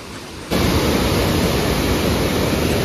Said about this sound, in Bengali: এই যে দেখুন এখান থেকে পুরো ফুল ফোর্সে জল বার হচ্ছে।